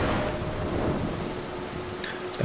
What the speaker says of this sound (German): an den Blitz muss man hier denken